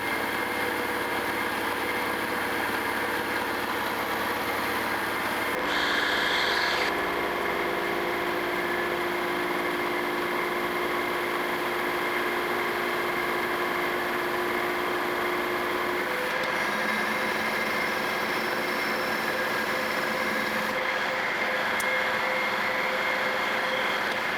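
A machine runs at about 1200 RPM while grinding metal shear knives held in a fixture, a steady loud mechanical drone with a continuous grinding hiss throughout.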